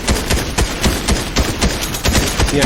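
Rapid bursts of gunfire in Fortnite, sharp repeated shots in quick irregular clusters, loud and close with no talk.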